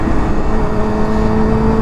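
Honda CBR motorcycle with ram air, riding on a cold night, its engine droning loud and close in a steady, peppy run with no talking.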